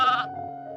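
A lone sheep, a lost ewe heard from a distance, gives one drawn-out bleat with a wavering tone, fairly clear and with no talking over it.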